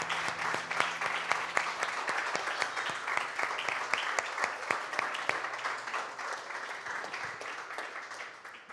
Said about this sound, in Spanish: Levantamos un fuerte aplauso.